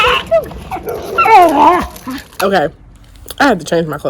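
Dog on a walk yipping and whimpering in short bursts, close by, alongside faint jangling keys, while a person talks over it.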